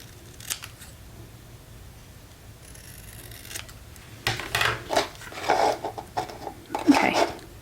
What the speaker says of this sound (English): So all I'm gonna do is just trim a little bit off the edge there.